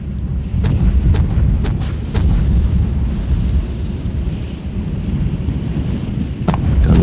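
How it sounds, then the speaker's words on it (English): Artillery shells exploding in the ARMA 3 military game, a sequence of heavy, booming detonations with sharp cracks near the start and again near the end over a continuous low rumble, loud and close. "They're still moving towards those explosions."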